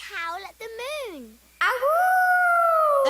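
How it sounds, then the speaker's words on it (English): A wolf howls with long rising and falling wails, several short ones and then a sustained loud howl, close and clear. "Wolf number 94 not only howled once, he switched directions and howled twice."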